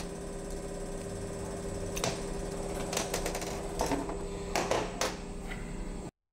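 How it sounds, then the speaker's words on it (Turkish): A Bosch diesel injector from a Euro 5 engine is being taken apart on a workbench, with a series of sharp metallic clicks and taps as the valve is removed over a faint steady hum. "Şimdi valfi içinden çıkarıyorum."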